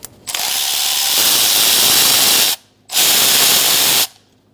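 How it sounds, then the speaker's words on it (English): A powered ratchet with a 10mm socket spins out valve cover bolts on a 2002-2006 Toyota Camry in two loud, sustained whirring bursts separated by a brief pause, close up with no talking. "I'm going to use a 10mm socket. Continue taking out the bolts."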